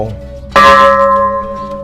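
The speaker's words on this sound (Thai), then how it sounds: "เวลาเรามาวัดเราลั่นระฆัง ตีค้อง" A Thai temple bell struck once, a sharp metallic hit that blooms into a loud, sustained ringing tone with shimmering overtones, heard alone after a softer lingering hum.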